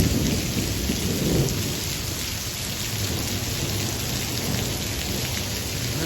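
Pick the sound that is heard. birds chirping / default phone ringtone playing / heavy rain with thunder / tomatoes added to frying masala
heavy rain with thunder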